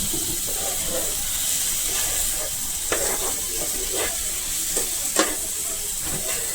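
Onion and tomato gravy frying in a pan with a steady, even sizzle throughout, broken by a few soft scraping stirs and light clinks, no voices.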